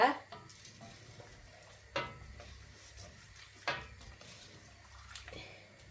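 Coconut pieces being stirred into a pot of traditional Sri Lankan Aadi kool, with a spoon scraping the pot in sharp strokes at roughly even intervals over a low bubbling background.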